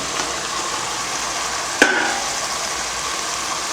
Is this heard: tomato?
yes